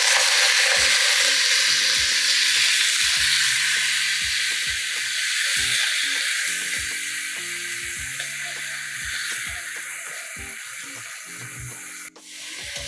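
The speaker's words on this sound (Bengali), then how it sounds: "শামা চাল দেওয়ার পর কিছুক্ষণ নেড়ে চেড়ে একটু ভেজে নেব।" Shyama rice frying in ghee as it is stirred in the pan, with a bright continuous sizzle and rhythmic scraping strokes of a spoon against the pan, close and loud, easing off slightly toward the end.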